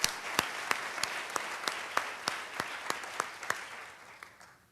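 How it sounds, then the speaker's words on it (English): An audience applauds a staff member at a company team meeting, a fairly quiet, even patter of claps with sharp individual hand strikes standing out at an irregular beat. "Let's give Adrienne a big round of applause."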